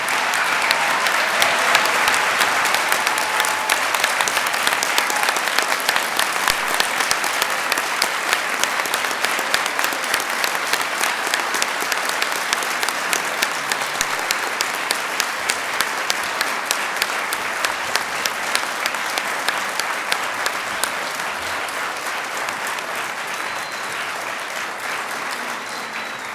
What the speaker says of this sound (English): Let's applaud this great class.